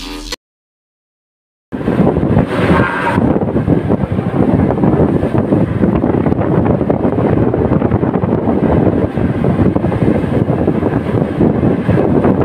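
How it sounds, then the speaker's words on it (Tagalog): Strong wind at sea buffets the microphone in loud, continuous roaring gusts, after a brief moment of near silence at the start. "Grabe sa hangin, hangin lang malakas eh."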